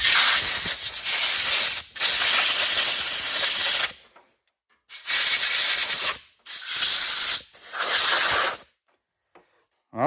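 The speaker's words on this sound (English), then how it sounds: "some compressed air." Compressed air blasts loudly and closely against a cleaned snowmobile carburetor in several sustained hissing bursts, each a few seconds long, broken by short silent gaps.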